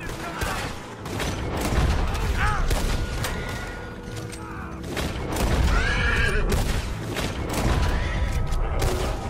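Horse whinnies cut through a dense, noisy Red Dead Redemption 2 game soundtrack with gunfire and rumbling, the neighs rising briefly above the clamour after the horse is shot.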